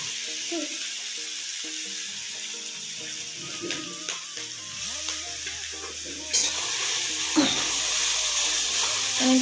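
Grated carrots fry and crackle in a hot pan, with a spoon stirring and scraping them round in irregular strokes; close, steady sizzle, a little louder toward the end, with no talking.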